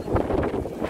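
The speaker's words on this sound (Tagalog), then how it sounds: "Grabe ang hangin." Strong wind at a mountain campsite on Mt. Kulis buffets the microphone in a continuous low rumbling gust.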